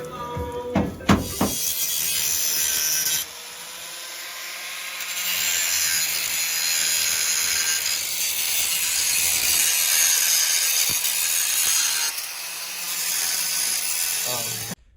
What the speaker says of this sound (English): You gotta get it with the angle grinder.